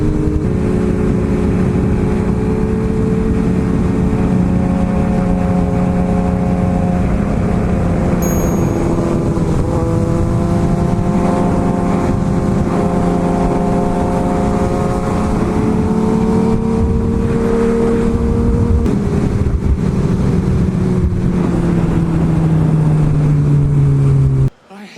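A motorcycle engine runs steadily throughout, its low harmonic drone rising and falling slightly as it idles and revs, loud and close, before cutting off abruptly at the very end.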